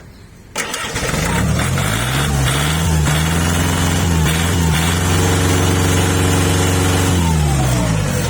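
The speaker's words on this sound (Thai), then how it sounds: "ตัวนี้ไม่ต้องเผาหัวนะครับ สตาร์ติดได้เลย" A four-cylinder tractor diesel engine cranks and catches after a brief pause, starting without preheating, then settles into a loud, steady, rumbling idle that continues to the end.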